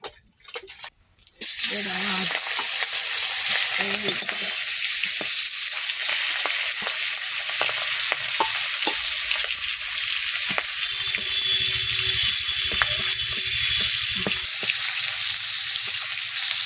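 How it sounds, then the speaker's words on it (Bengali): Fish heads fry in oil in a wok with a loud, continuous close sizzle and crackle, a few faint voices and light clinks underneath. "মাথাগুলো ভাজা"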